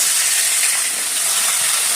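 Fish rubbed with salt and turmeric frying in a pan, a loud, close, steady sizzle with dense crackling that runs unbroken throughout.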